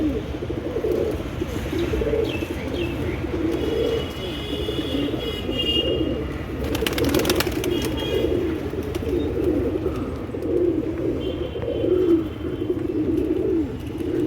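A flock of healthy, restless pigeons cooing continuously in rolling low murmurs, with a brief burst of wing flapping midway and occasional chirps on top.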